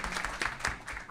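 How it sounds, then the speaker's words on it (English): Brief burst of audience clapping at an evening community event, a dense patter of many hands with a few louder accents, heard alone for about a second. "an extra round of applause for them for coming out tonight"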